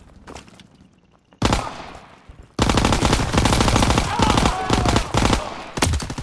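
Heavy automatic gunfire from a Call of Duty WWII battle, with sustained loud bursts of rapid shots after a brief quieter opening, a short pause, then almost continuous firing to the end.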